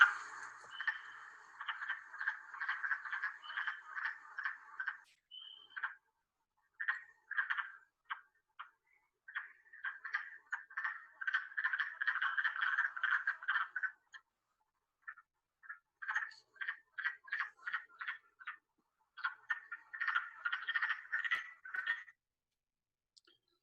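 Wood frogs in Maine call in rapid, clucking bursts, a chorus of short duck-like chatters repeating in runs with brief pauses, fairly faint and distant.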